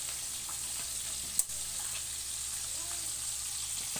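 Soft, steady sizzle of food frying in a pan, with a single sharp click partway through, fairly quiet and even throughout.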